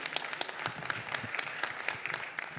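An audience applauding at the end of a conference panel on research funding and data governance, dense steady clapping from a crowd sustained for the whole stretch, with faint voices underneath.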